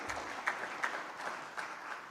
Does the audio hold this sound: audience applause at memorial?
yes